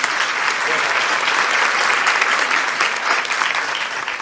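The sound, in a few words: applause from poetry recital audience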